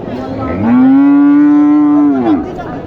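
A cow at a cattle market, Mataji haat in Naogaon district, lets out one long, loud, close moo that holds steady for well over a second before tailing off, with no talk.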